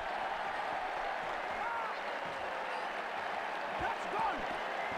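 A stadium crowd in a cricket video game applauds a shot, a broad, continuous wash of clapping and cheering heard at a distance under a commentator's voice.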